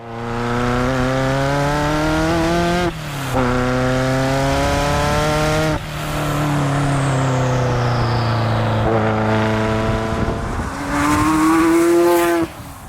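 A loud Ferrari F40 engine revs hard on a road through rising gear pulls, dropping briefly between shifts, with a continuous roaring growl and no talking.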